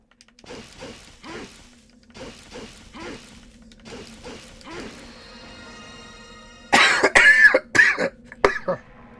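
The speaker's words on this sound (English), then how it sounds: "I will say that every time I have a coughing fit" A person breaks into a short, harsh coughing fit of several loud, close bursts near the end, following a stretch of quieter, evenly spaced mechanical clicking pulses.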